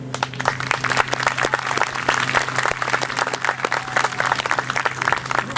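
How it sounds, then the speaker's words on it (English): Steady applause from a church congregation at an outdoor service in a park, many hands clapping continuously at a fairly loud level, with a low hum underneath. "Can we hear a hand for them?"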